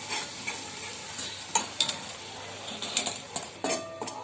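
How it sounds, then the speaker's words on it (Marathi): Coconut-garlic paste sizzles in hot oil with mustard seeds and cumin for stuffed brinjal, while a spoon stirs and scrapes the pan in quick, uneven strokes. "हे व्यवस्थित तेल सुटेपर्यंत परतवून झालेलं आहे।"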